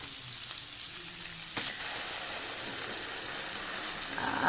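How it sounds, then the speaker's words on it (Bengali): Ground spinach paste goes into a hot pan, giving a continuous soft frying sizzle with a faint splash of the paste landing and a slight rise in hiss near the end. "মিক্সিতে যে বেটে রেখেছি, ওই বাটা পালং শাকটা আমি এবার দিয়ে দেবো"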